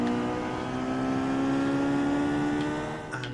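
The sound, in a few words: race car engine accelerating at race start in Forza Motorsport video game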